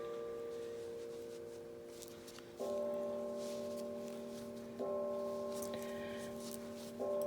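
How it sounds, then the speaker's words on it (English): Bells of a hilltop church in Pennsylvania ringing at a distance, faint sustained tones struck in a slow sequence every couple of seconds over quiet outdoor background. "that is our church up on the hill across from our house in case you hear the bells ringing"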